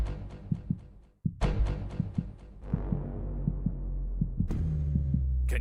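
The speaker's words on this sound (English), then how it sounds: "Can you feel your heart beating faster and faster?" A heartbeat sound effect opening a PUBG Mobile National Championship broadcast, deep thudding beats over a low droning hum, loud and close, the pulse picking up pace before a sharp hit near the end.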